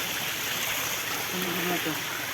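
Water from a mountain stream runs over rocks in a steady, close rushing wash, with a few faint voices underneath.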